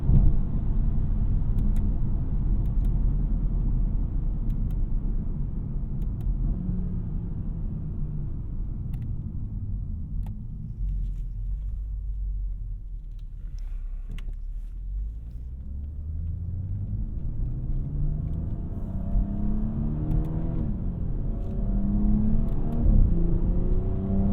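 MHD-tuned BMW 340i xDrive heard from inside the cabin as a continuous deep engine rumble that dips and then climbs in pitch while accelerating, loud and steady with no talking.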